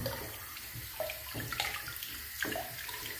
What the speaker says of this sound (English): Rinse my face off.